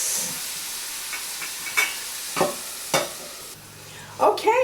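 Glazed carrots sauté in a pan, giving a soft steady sizzle with intermittent scraping stirs and clinks against the pan, up close and without talk.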